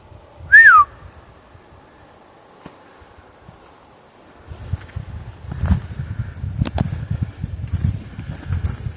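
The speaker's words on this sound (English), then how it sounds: "A little whistle here." A person gives one short, sliding whistle outdoors in the woods, loud and close. Rustling footsteps through leaves and undergrowth follow, steady and near.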